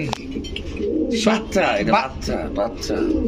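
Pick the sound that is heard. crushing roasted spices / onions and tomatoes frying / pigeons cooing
pigeons cooing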